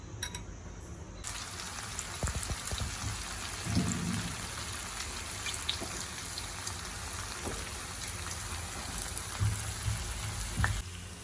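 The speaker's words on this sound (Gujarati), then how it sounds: "હવે ત્યાંને આપણે ડીપ ફ્રાય કરીશું." Cornflour-coated spring potatoes deep fry in hot oil, giving a steady, fine bubbling crackle with scattered small pops and a few faint knocks, moderately quiet and free of talk.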